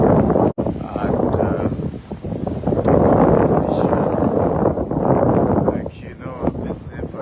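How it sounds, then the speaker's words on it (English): Strong wind buffets and rumbles into the microphone almost continuously outdoors near water, loud and broadband, with a person speaking over it. "it's very, very windy"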